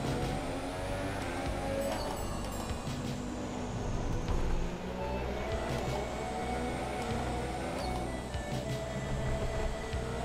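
An F1 car engine in the racing game F1 2017, during the Singapore Grand Prix, drones in a steady, high-pitched whine with small pitch shifts as gears change, continuous and fairly quiet.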